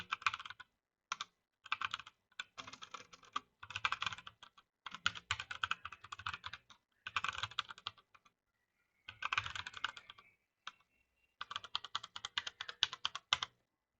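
Someone types on a computer keyboard to fill in a web registration form, producing quiet bursts of rapid keystrokes separated by short pauses, close and alone.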